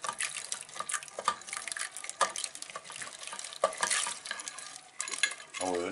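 A spoon stirring split pea chorba soup in a pot, soft scraping and wet sloshing in irregular bursts, close and fairly quiet, with a brief clink near the end.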